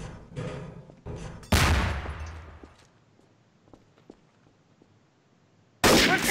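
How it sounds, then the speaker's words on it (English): Grenade explosions in the video game Garry's Mod: a loud blast booms and decays over a second or two, followed by scattered small clinks and another sudden blast at the end. "Stop throwing grenades!"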